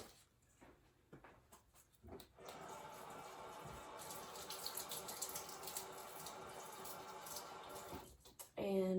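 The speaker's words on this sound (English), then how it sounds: "And I'm just going to rinse it off really quickly." Small plastic cups rinsed under a running tap, a steady close stream of water hissing for several seconds, preceded by some handling noises and ending with a clunk.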